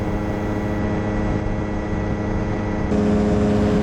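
A Quicksilver GT400 ultralight aircraft takes off, its steady engine drone holding constant and loud, with a slight step up in intensity partway through as the power builds.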